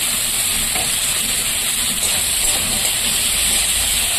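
Chopped onions, with whole green chilies, fry slowly in a pan of oil for a bitter gourd dish, giving off a constant soft sizzle close by.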